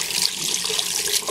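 Water runs from a sink in an abandoned building in a Jurassic Park video game, a brief steady splashing hiss heard alone.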